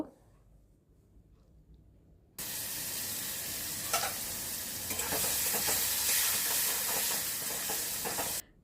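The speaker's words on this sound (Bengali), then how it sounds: "এবার ছোলাগুলো এর মধ্যে দিয়ে দিলাম। ছোলাগুলো একটু ভেজে নেব।" Chickpeas hitting hot oil with cumin and turmeric, quiet at first, then a sudden loud, sustained sizzle with stirring scrapes running to the end.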